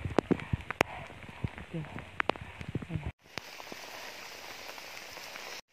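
Heavy rain falls steadily on a slippery mountain trail near the summit of Gunung Salak, a close, dense hiss that runs on under a short spoken word and scattered footsteps.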